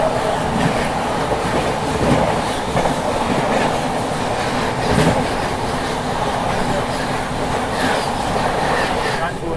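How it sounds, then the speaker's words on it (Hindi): Suheldev Express train passing at high speed, heard from aboard an express train in India: loud, continuous rushing roar with rhythmic clickety-clack of wheels on rail joints, steady throughout. "सामने से सुहेल देव प्रकट होने वाली है अभी कुछ देर में।"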